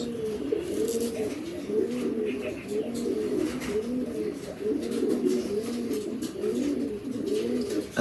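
Racing pigeons cooing repeatedly in a steady rolling rhythm, several birds close by with faint background noise.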